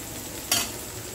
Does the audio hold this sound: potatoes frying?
yes